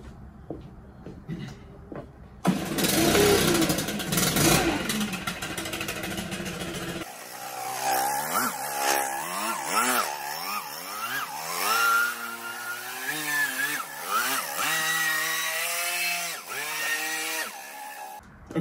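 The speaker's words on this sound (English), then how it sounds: "all I'm going to do is use my leaf blower, blow all the loose stuff out of here" A leaf blower blows leaves off an epoxy garage floor, a loud roaring engine and rushing air that starts abruptly, then rises and falls in pitch as it revs and moves.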